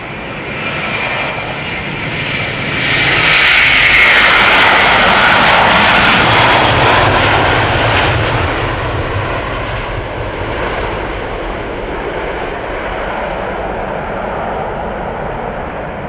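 A 17-year-old Delta Air Lines Airbus A330-300 takes off from Schiphol bound for Seattle, its jet roar rising to a loud, whining peak early, then rumbling on and slowly fading as it climbs away.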